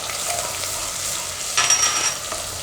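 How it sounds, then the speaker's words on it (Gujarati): Ginger, chilli, garlic and hing hit hot oil with a steady, bright sizzle that flares sharply partway through as more goes in, then keeps crackling evenly. "તેલ આપણું ગરમ થઈ ગયું છે. તો પહેલાં આપણે એમાં આદું, મરચાં અને લસણ નાખીશું."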